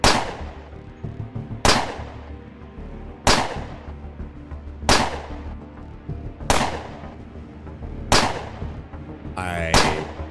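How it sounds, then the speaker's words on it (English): Automated security turrets fire in a video game set in underground tunnels: six or seven loud, sharp shots land at steady intervals of about a second and a half, each ringing out and decaying before the next, with no voices. "I guess I'll just wait until the shooting stops."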